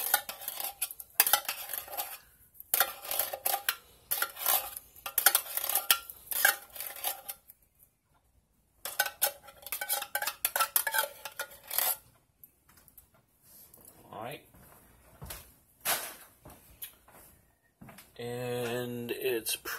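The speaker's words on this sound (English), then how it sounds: "you don't have to like preheat it before you stir it in because it will be heated by the pasta" Cooked pasta being stirred into soup in a pot, with repeated scraping and clinking of a utensil against the metal in uneven bursts separated by short pauses, close and fairly loud, followed by a brief voice near the end.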